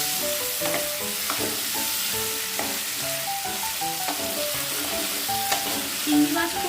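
Prawns and potatoes sizzle in an oil-filled pan, with a steady crackling fry punctuated by scraping stirs and small pops, close and clear, with no speech.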